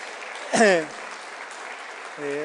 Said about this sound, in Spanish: Un fuerte aplauso, ¿verdad?